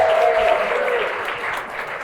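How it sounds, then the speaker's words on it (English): A wedding crowd applauds for the groom's brother as he steps up to give a speech, dense clapping filling the room and slowly easing off. "Big round of applause for Roger"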